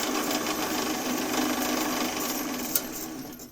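Wood lathe spinning a turned box while its edge is chamfered, a steady close whirring cut with broadband scraping, holding even for several seconds before tapering off at the end.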